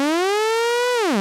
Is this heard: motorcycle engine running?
no